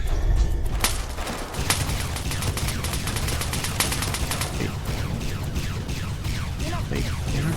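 Rapid gunfire from the video game Fallout: New Vegas, a dense fusillade of repeated shots at close range running throughout, with a voice talking over the shooting.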